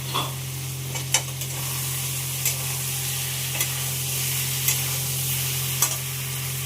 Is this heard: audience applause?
no